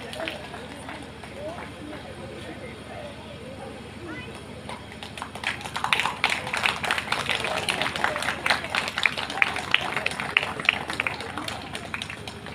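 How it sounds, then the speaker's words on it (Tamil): An audience at a St. Anthony special evening service at Emankulam church breaks into clapping to honour the team captain. The applause swells partway through and continues under someone speaking over a microphone. "ஆக அவர்களுக்கு கைத்தட்டி வாழ்த்துக்களை சிறப்பானவை தெரிவித்துக் கொள்வோம்"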